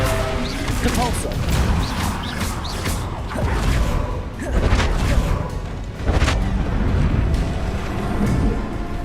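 Spells cast in a Hogwarts Legacy battle, the Depulso force-push among them, heard as repeated heavy booms, crashes and whooshing impacts in quick succession over a dense, loud game soundscape.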